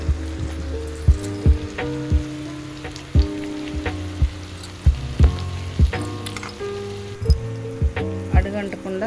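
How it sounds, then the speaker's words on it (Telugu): Potato pieces with turmeric fry in hot oil in a pan, giving a low sizzle broken by frequent clicking scrapes of stirring, heard under steady background music. "అడుగంటకుండా కలుపుతూనే అటు ఇటు వేపుతూనే ఉండాలండి"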